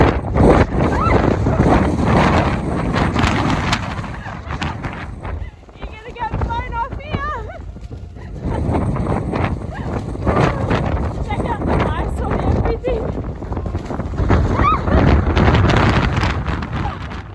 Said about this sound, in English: wind was absolutely rushing up over Crater Lake, so much so that a gust could throw you off balance